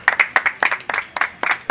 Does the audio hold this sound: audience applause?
yes